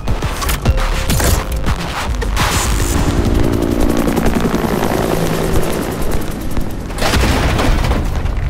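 A grenade explodes amid combat in a Rainbow Six Extraction cinematic. Heavy booms and bursts of gunfire pound over a continuous helicopter-like rotor roar, loud and dense throughout, with no talk.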